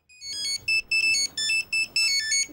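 Old mobile phone ringtone from around twenty years ago: bright electronic beeping in short repeated bursts with a steady rhythm, loud, close and alone.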